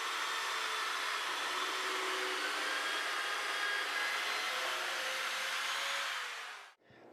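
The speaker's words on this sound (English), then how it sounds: "And now I'll just finish off making the holes in the shelf." A power drill boring holes in a scrap wood shelf board, a steady continuous whine that runs loud and unbroken for several seconds before cutting off abruptly near the end.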